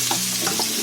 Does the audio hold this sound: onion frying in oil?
yes